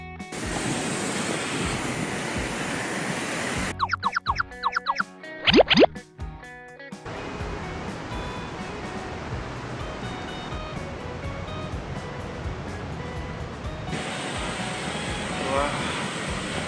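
Nevada Fall in Yosemite gives off a loud, steady rushing roar that breaks off for a few seconds midway, with brief other sounds filling the gap before the roar returns.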